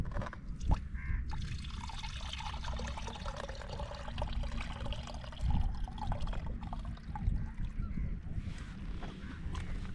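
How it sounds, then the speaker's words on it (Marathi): Oysters scooped from the deep sea off Mumbai being washed in water, giving a steady low sloshing and trickling with occasional splashes, continuous and close. "तर ही सर्व कालवे आहेत ना ते आपण पाण्यामध्ये धुणार आहोत"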